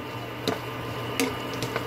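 A dish with oyster sauce and a little water being stirred in a pan, a soft steady bubbling bed broken by a few wet squishy scrapes and clicks of the utensil, close and quiet.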